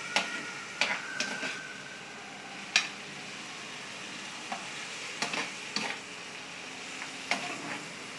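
Adobong pusit, squid simmering in a pan, gets stirred with a utensil: soft steady sizzling under sharp intermittent scrapes and clicks against the pan, close and fairly quiet, with no talk.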